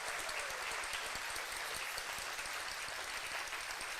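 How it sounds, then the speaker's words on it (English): Audience applause after a steel band spring concert, a steady wash of many hands clapping at a distance, fairly faint and continuous throughout with no voices. "Give a round of applause, please."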